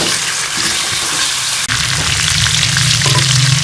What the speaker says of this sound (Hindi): इस तरह से फ्राई चिकन को जो है वो फ्राई कर लूँगी